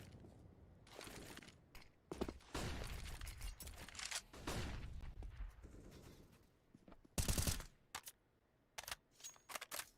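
Bursts of rapid gunfire from a competitive Counter-Strike: Global Offensive esports match, loud clustered volleys and single cracks layered over constant busy in-game noise.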